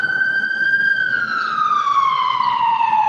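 An ambulance siren wails loud and close in one long, sustained tone that slowly drops in pitch as the vehicle passes, with no talking over it.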